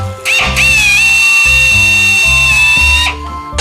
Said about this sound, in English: Go ahead and put some self-tapping screws in that so I can get them lined up.